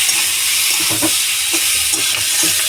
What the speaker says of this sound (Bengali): আমি নাড়াচাড়া করে দেখাচ্ছি